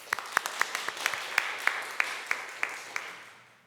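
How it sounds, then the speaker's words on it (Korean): A church congregation applauds after a sermon, with steady rhythmic claps ringing out in regular beats over a bed of scattered clapping. The sound fades gradually toward the end. "주님께 한번 영광의 박수 올리시겠습니다."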